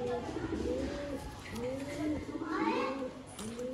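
Pigeons coo repeatedly in a loft of fancy breeds, low throaty rolling calls recurring every second or so, fairly close, with someone talking over them throughout.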